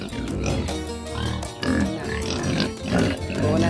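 Pigs grunt and oink on a farm where piglets are kept, a steady run of close, loud grunts over about four seconds with some background murmur.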